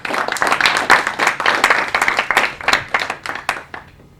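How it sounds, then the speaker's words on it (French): Audience applause greets a speaker at an evening business talk event, a burst of dense clapping lasting about four seconds that stays fairly loud and thins slightly toward the end. "vous pouvez l'applaudir aussi"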